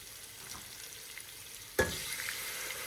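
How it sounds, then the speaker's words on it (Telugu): Quiet hiss of a frying tempering, then a sudden louder sizzle as cooked lentils are poured into the hot pan for sambar, continuing steadily afterward. "ఇందులో నేను ఇప్పుడు ఆ పప్పును వేసేస్తాను."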